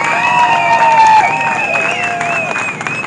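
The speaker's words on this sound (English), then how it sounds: "give a big round of applause for that family" A crowd at an outdoor America First and Back the Blue rally in Plainfield, Connecticut applauds and cheers loudly and steadily for about three seconds, with a sustained tonal sound running underneath.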